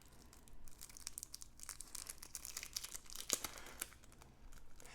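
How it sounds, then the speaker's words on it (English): Plastic card sleeves crinkling as board game cards from a Resident Evil 2 expansion are slid into them, a steady run of close, soft crackles and rustles with small sharper snaps, no voices. "I'll get these cards sleeved and stored."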